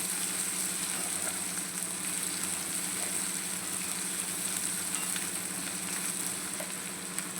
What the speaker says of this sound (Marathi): आता आपण कांदा घालू. कांदा पण चांगला मस्त असं शिजवून घ्यायचं.